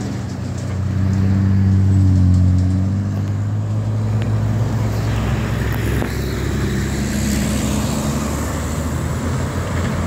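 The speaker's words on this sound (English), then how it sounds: "sorry, huge amount of traffic." Heavy road traffic roars past close by in a loud, continuous wash, with one big vehicle's engine swelling early and then fading into a dense, steady flow.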